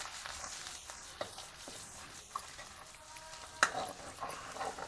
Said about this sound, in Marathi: ते चांगले तेलामध्ये असे परतून घेतलेत